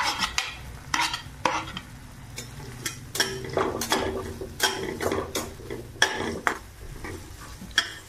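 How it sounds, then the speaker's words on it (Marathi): Finely chopped onion and green chillies are stirred in a pan for Indian-style pasta, with repeated scraping strokes and metal clinks of a spoon against the pan, a faint sizzle underneath, close and moderately loud. "कांदा चांगला लाल होईपर्यंत आपल्याला परतून घ्यायचा आहे।"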